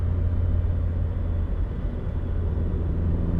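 A Chevy Sonic fitted with a new ZZP rear sway bar accelerates up a highway on-ramp at about 40 mph, heard from inside as a steady, loud low engine and road rumble.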